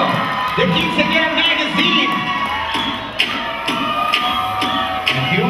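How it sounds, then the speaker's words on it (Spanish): An audience at a quinceañera cover-girl pageant cheers and applauds for the five finalists, loud and crowded, with whoops and shouts layered over steady clapping. "Las 5 finalistas, un aplauso para ellas."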